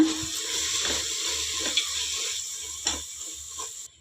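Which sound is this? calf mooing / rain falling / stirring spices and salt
stirring spices and salt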